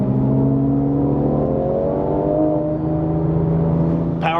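A Porsche 997 Turbo engine runs in a smooth, sustained rev with pitch slowly rising and shifting, loud and close throughout, ending with a brief sharp click.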